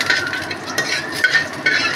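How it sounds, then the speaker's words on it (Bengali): Cashews fry in hot oil in a pan while a spoon stirs them, giving a close, steady sizzle broken by several scraping strokes against the metal. "এবার কাজুটা ও একই সেম প্রসেস করে কাজুটাও ভেজে নেব।"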